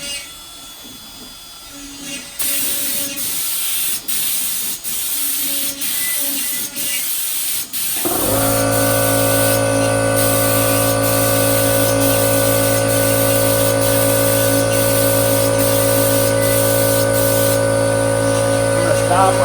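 An air compressor running a paint spray gun that is applying paint to Star Wars Aztec signs: short spray passes at first, then the compressor kicks on with a loud, steady mechanical drone and hum under continued hissing spray.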